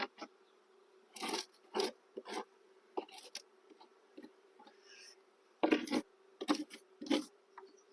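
A steady low honeybee hum drones throughout at an infested hive with wax moth, broken by repeated sharp scraping and knocking noises close by, in irregular bursts.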